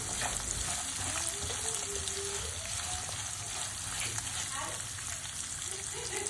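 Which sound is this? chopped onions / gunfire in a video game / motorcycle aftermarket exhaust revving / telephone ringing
chopped onions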